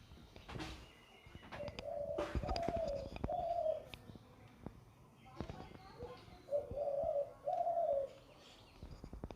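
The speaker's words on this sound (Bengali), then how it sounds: "সেই ঘুঘুটি এখানে ডেকে চলেছে।" A dove coos outside a window in a garden with trees, several soft repeated hooting phrases at a moderate distance, with scattered knocks and household noises between them.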